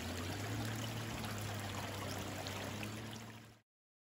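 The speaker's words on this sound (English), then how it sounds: "I'm not sure if you guys can hear that or not, but that water is just so relaxing." Steady rushing of flowing water near Lumberman's Monument in Oscoda, Michigan, a continuous close splashing stream with no voices, fading out abruptly at the end.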